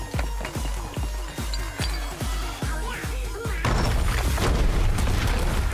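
Grenade explosions in an action film fight scene play as a string of heavy, evenly spaced booms, then swell into a dense, crashing roar that fills the last few seconds.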